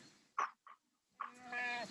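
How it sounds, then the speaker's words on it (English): A hungry baby goat bleats in short, close calls: two brief cries, then a longer wavering bleat that trails off at the end. "it's a hungry baby goat"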